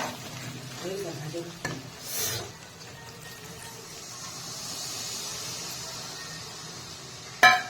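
Water goes into sizzling Bengali-style chicken skin curry for gravy, a steady hiss with brief sharp bursts and stirring noise, close by, ending in a sudden loud splash of steam.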